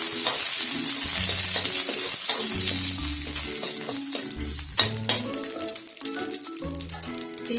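Mustard seeds and curry leaves sizzle in a little hot oil for a Marathi methi shingole dish, giving a steady crackling hiss with rhythmic scraping thumps from stirring. The sound is close and loud.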